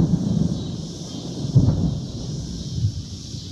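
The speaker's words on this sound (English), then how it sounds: "Can you hear all of that thunder?" Low rumbling thunder rolls at night, distant and muffled, swelling briefly in the middle before fading under a faint steady background hiss.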